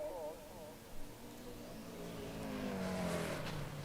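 Race cars roar along a circuit at a Thunder Down Under race meeting as the pack charges past, engines droning and rising in pitch, steady and fairly close, with commentary running over the top.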